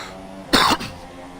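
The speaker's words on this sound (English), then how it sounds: "Sorry for the cough, guys." A single short cough, close and sharp, over a quiet background.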